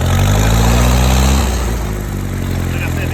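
A Mercruiser 3.0 boat engine with a leaking, failing fuel-pump diaphragm runs at a steady idle, loud and close, with a deep, even low rumble that briefly shifts partway through.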